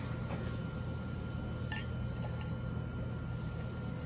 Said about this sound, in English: Now I'm going to add my sparkling wine.